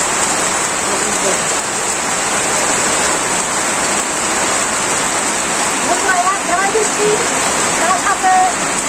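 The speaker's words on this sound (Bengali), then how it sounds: "বৃষ্টি করতেছে প্রচুর বৃষ্টি" Heavy rain pours down in a rural village, a loud, dense, continuous wash of rainfall that fills the whole scene, with faint voices and small sounds rising briefly beneath it.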